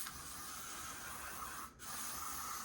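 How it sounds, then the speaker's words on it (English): Got To Be Glued spray wax hisses out of an aerosol can in a steady broadband spray, briefly interrupted once near the end, with no voices. "I'm going to use the Got To Be Glued wax, spray wax."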